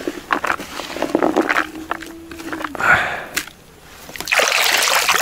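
Siberian carp (sazan) splash at the surface of warm shallow water, a few separate sloshing plunges between quiet stretches, with a voice talking nearby.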